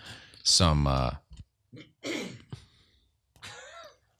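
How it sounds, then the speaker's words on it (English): Close throat clearing, a couple of rough bursts with quieter breathy pauses between them. "when I was clearing my throat there"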